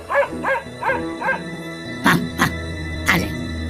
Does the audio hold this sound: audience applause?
no